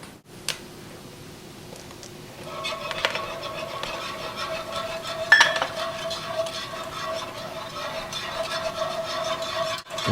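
A utensil scrapes and taps in a pan as flour is stirred into melted butter. The clinks and scraping start softly and then settle into a steady, moderate stirring with a faint hum behind it.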